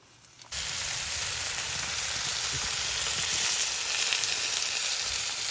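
Oiled, spiced cabbage steak hitting a hot grill, bursting into a loud, steady, close sizzle that holds without letup after a quiet start.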